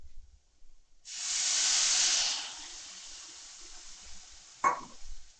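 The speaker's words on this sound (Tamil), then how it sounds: "இப்போ தண்ணி ஊற்றி மூடி வைக்கிறேன்." A sudden burst of loud hissing as water hits a hot pan, fading over a couple of seconds, followed by a brief clatter.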